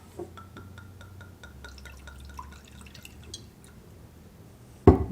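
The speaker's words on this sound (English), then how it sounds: "So let's just pour a little bit in here." Bourbon is poured into a glass behind a bar, giving a run of small drips and trickles with light glassy ticks, ending in a sudden louder knock.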